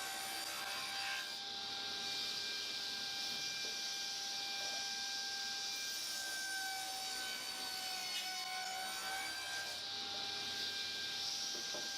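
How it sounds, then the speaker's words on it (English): Hand saw cutting 18mm off the top of a wooden box of spotted gum and red oak, a continuous close rasping rub with steady strokes and a faint ringing tone underneath. "I decided I'm going to cut 18mm off the top of the box"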